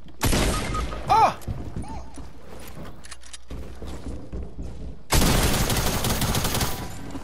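Video game gunfire bursts out in loud, dense volleys, one at the start and a longer one near the end, with sharper scattered shots and cracks in between.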